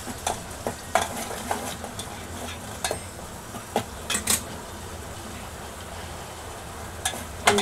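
Gravy masala frying in a home kitchen pan, stirred with a spoon: a soft steady sizzle under repeated scraping strokes and light clinks of utensil against metal, close and fairly quiet, no talking.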